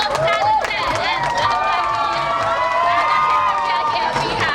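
An indoor crowd at a celebrity entry event cheers, shouts and claps continuously, with an excited voice rising over the steady roar.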